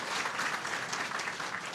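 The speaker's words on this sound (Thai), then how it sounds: "ขอเสียงปรบมือต้อนรับ ด้วยนะครับ" An audience claps to welcome a guest onto a Thai health-product talk show, a continuous, fairly soft patter of many hands with no voices on top.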